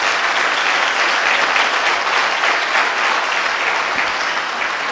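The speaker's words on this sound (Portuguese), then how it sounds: "Vamos aplaudir o nosso Deus bem forte." Church congregation applauding loudly and steadily, a dense wash of clapping that holds for the whole stretch without a break and with no voices standing out.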